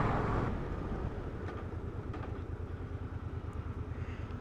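Suzuki Intruder V-twin cruiser motorcycle being ridden at night, a steady, close, pulsing engine rumble with a slight swell at the start and no speech.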